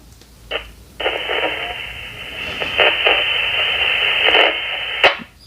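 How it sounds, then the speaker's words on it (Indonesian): A Motorola GT10 radio picks up an airband transmission: a harsh, buzzy, muffled voice channel opens after a brief click, runs steadily for about four seconds and then cuts off with a squelch burst. "Jadi untuk yang GT10 ini, kalau untuk airband ya seperti suaranya nggak terlalu jelas"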